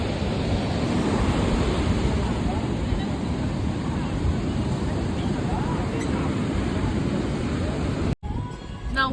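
Strong ocean waves surge at a beach in Goa, a loud, continuous rushing roar with wind buffeting the microphone, ending in a brief dropout and some handling noise.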